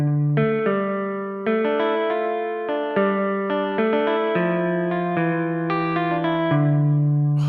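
Synth tones in Logic Pro for iPad with slight distortion applied, a sequence of sustained harmonic notes changing every second or so, steady and close with no voices.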